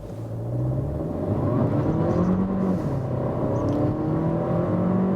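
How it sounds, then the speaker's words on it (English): A Skoda Kamiq with the stronger 150 hp engine accelerates hard, its engine note climbing steadily through a gear change under a continuous low rumble of road noise, loud and close inside the car with no talking. "I like the way that the engine sounds to me in that mode as if it's doing what I expect it to do."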